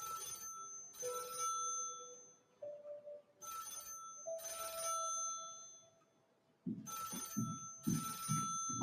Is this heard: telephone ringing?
yes